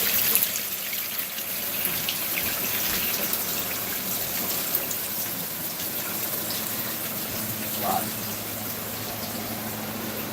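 Aquarium water drains from a cichlid tank through an Aqueon water changer, a steady gushing, trickling flow that runs continuously at moderate level.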